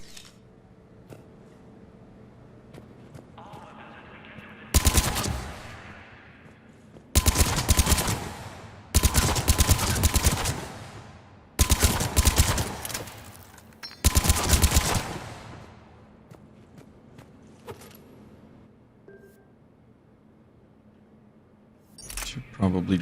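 Bursts of gunfire at the shooting range in the video game Mass Effect 3, several loud volleys packed closely together in the middle, with a final burst at the end and quieter game ambience in between.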